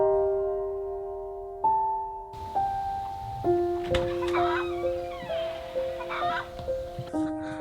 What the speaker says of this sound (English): Hi, chickies. I know you guys love your eggshells.